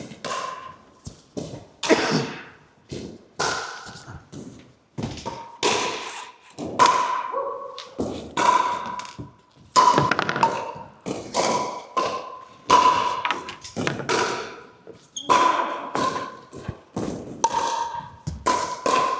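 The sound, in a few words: pickleball paddles hitting the ball during a knock-up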